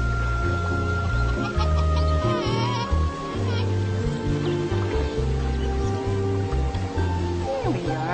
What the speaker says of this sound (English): Each day, the beautiful white rooster called Cotton arises crowing.